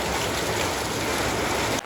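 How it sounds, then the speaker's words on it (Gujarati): Heavy monsoon downpour in Bardiya, roughly three inches falling, heard as a loud unbroken roar of rain that stays constant throughout before cutting off abruptly at the very end. "બરડિયામાં અત્યારે વરસાદે બઘડાટી બોલાવી દીધી અને લગભગ ત્રણક ઇંચ વરસાદ પડી ગયો છે"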